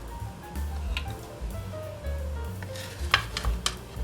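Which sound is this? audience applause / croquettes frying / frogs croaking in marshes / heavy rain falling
croquettes frying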